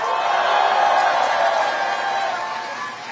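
Political rally crowd in Ulsan applauding and cheering, a dense steady wash of clapping and voices at moderate volume, easing slightly toward the end.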